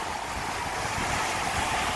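Rough ocean surf, with waves big enough to throw and dunk a swimmer, makes a steady loud wash and roar throughout, with wind noise buffeting the microphone.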